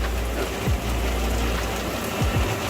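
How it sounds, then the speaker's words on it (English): Heavy October cloudburst on the Croatian coast pounding a Patrol 860 rescue RIB, a dense, steady roar of downpour close by with a low rumble underneath and no voices. "October cloudburst, absolutely mega rain."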